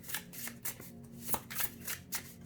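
Tarot cards being shuffled by hand, a quick series of soft riffling and slapping bursts at close range, with no talking.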